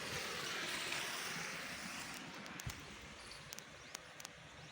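Water runs along an open irrigation channel on a chilli farm, a steady broadband rush that stays even and fairly loud throughout, with a few faint ticks and knocks in the later seconds and no talking.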